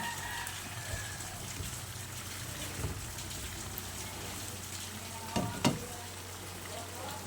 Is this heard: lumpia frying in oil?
yes